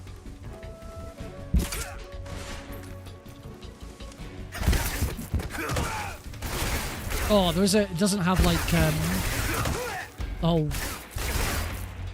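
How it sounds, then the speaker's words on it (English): Brutal, punchy gunshot sound effects crack out in bursts from Metal Gear Solid Delta gameplay, mixed with game music and ambience while a player talks over them. "those gunshots are brutal. I love the sound effects."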